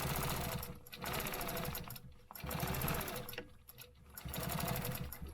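A sewing machine stitches across a stencil project in close, loud bursts of rapid needle chatter, pausing briefly between runs, with no talking.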